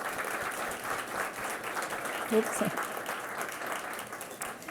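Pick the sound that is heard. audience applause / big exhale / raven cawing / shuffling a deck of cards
audience applause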